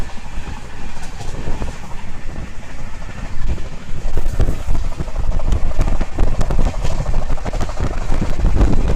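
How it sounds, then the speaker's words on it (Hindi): Swarn Shatabdi Express running at full speed through Khurja Junction, heard from onboard as a loud continuous rumble and roar with rattling wheel noise and wind buffeting, swelling slightly midway. "और अब हम लोग स्किप करने वाले हैं खुर्जा जंक्शन, वो भी एकदम फुल स्पीड में।"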